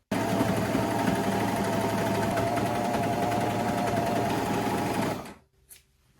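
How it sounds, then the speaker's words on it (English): Serger running a straight seam down thrifted clothing fabric, a fast, even mechanical buzz held close for about five seconds before stopping abruptly into near silence. "And now we can put the good sides together and match them up, and then we can serge straight down."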